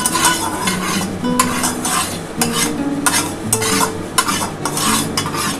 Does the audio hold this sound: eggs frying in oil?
yes